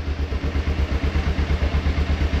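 A Kawasaki KLE 500 motorcycle engine idles steadily from a cold start, its low, even rhythmic thump repeating close and clear with a light mechanical clatter over it, and no talking.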